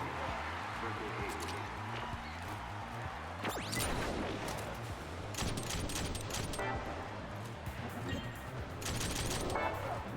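Pistols fire in Rollerdrome in rapid clusters of sharp, light shots scattered across a busy game soundscape with rolling movement underneath, moderately quiet and fairly continuous.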